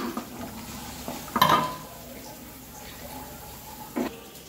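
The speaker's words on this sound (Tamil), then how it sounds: "இந்த ஜவ்வரிசி அப்போ இப்படி சேர்த்துக்கிறேன்." Soaked nylon sago is tipped into a pot of wedding-style milk payasam, giving a brief wet plop and clatter of the vessel, with a second smaller knock a few seconds later against quiet kitchen background.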